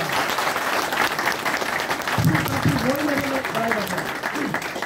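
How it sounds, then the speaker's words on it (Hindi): Office staff at a New Year gathering clapping warmly, a dense, steady round of applause with a voice speaking over it partway through. "सबका दिल से ताली बजा रहे हैं सब लोग"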